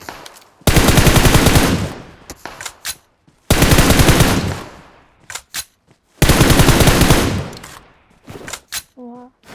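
Automatic gunfire in the PUBG Mobile battle royale game comes in three long, loud sustained bursts, each ending with a few scattered single shots, and a brief tonal game sound closes the sequence.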